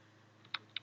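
Two quick, faint clicks of computer keyboard keys as code is typed, close over a low background hum.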